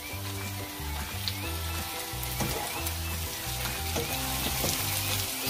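Chicken pieces fry in a hot pan for a creamy chicken dish, giving a continuous, close sizzle with bubbling crackle and occasional stirring clicks, no voices.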